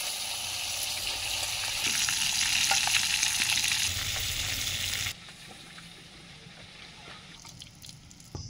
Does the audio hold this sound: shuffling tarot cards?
no